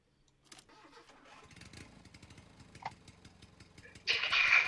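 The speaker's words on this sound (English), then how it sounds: "She even sounds like a lawnmower." An old car's engine cranks and fires in the game Jalopy, with a loud roar surging at the end after a few seconds of mechanical clicks and clunks.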